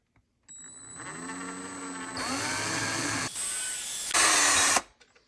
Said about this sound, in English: we're going to drill through there.